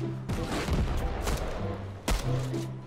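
Gunfire in a Fortnite Battle Royale match: a few sharp shots cut through a busy game soundscape, with a louder close blast near the end.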